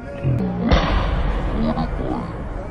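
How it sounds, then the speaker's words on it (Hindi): A loud firecracker-like bang set off to announce iftar at Jama Masjid in Delhi, one sharp burst with a brief ringing tail over busy street crowd noise and talk. "कोई तो पटाखा बोल गया इधर पे बहुत तेज कुछ हुआ"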